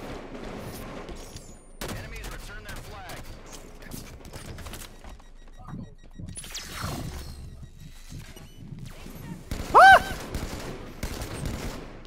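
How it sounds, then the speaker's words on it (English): BR rifle fire aimed at a Banshee in Halo 5, scattered bursts of shots and mechanical clatter in fairly quiet, sparse bursts, with a sharp loud hit near the end. "I want sustained BR fire on that Banshee"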